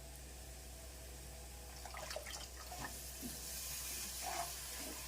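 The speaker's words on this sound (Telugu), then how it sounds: "చింతపులుసు వేసేద్దాం." Tamarind pulp extract, soaked in cold water and squeezed out, goes into a pan for pulihora, a tamarind rice dish. A soft hiss and bubbling sizzle rises midway and keeps going at low volume, with no voices.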